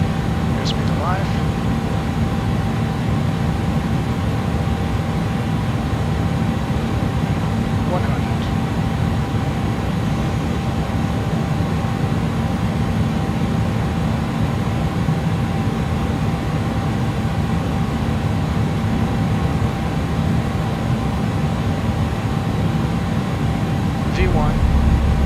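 Airbus A300-600RF engines in a flight simulator hold a steady, even takeoff-thrust roar, with a constant hum running beneath it the whole time.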